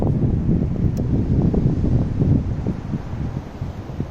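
Steady, rough headwind buffets the microphone on a golf course, a continuous low roar with gusty fluctuations throughout.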